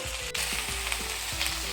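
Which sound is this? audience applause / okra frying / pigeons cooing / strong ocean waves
okra frying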